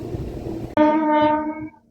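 A MEMU passenger train runs from Machilipatnam to Vijayawada, its low rumble cut by a loud, sustained horn blast lasting about a second before it fades.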